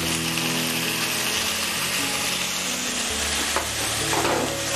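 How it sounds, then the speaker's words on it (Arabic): Onions frying and softening in a pan before tomatoes go in, a steady dense sizzle with stirring scrapes, close and continuous with no talk. "البصل لحد ما يدبل معانا شويه ننزل فيه الطماطم"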